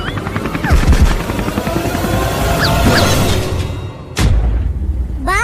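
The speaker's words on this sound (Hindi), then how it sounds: "अबे जल्दी कूदो, ये हेलीकॉप्टर गिरने वाला है।" Helicopter about to crash in a comedy sketch, a steady rotor roar with a sudden loud crash or boom near the end, then the roar continuing, loud and close with faint voices beneath.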